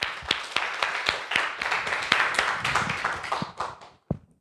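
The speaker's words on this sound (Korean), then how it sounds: "박수 쳐드립니다." A church congregation claps in brisk, uneven bursts of sharp hand slaps, close and lively, fading out near the end with one last clap.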